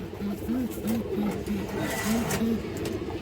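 A restless female pigeon in a cage gives a series of low, soft coos in quick repetition, close by, over faint background noise.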